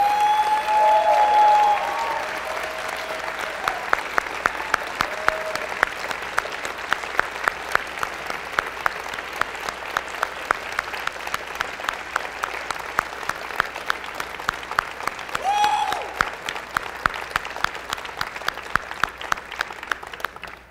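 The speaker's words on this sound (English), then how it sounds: "I think it would be incredibly appropriate right now if we all stood up and applauded the team that put this on" Sustained standing ovation at a Skepticon conference: a large audience applauds continuously for about twenty seconds, starting loud and settling into steady clapping with a few sharp individual claps, plus a brief whoop or whistle.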